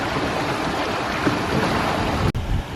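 Steady roar of waves and wind behind a moving boat at sea, with a towed dinghy surfing down the swells; loud, continuous wash with a brief sharp knock near the end.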